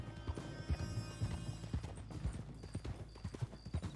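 Horse hooves clip-clop steadily in the RedM video game, a brisk, close, repeated rhythm of hoof strikes on the ground running throughout without pause.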